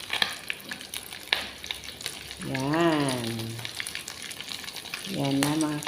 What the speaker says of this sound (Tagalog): So, prito lang muna ngayon.